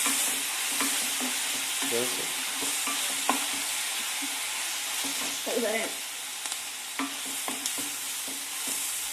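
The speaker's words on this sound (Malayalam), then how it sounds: "സവോള നന്നായി വഴന്ന് ഡാർക്ക് ഗോൾഡൻ കളർ ആവുന്നത് വരെ ഇളക്കിക്കൊണ്ടേയിരിക്കണം" Onions stirred and sautéed over high heat in a pan until dark golden: a steady, dense sizzle runs throughout, with intermittent scrapes and clinks of the stirring utensil, close and alone.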